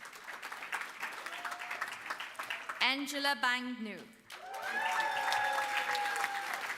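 A graduation audience at a University of West London ceremony claps for graduates, sustained applause under a voice reading out a name, then swelling again toward the end.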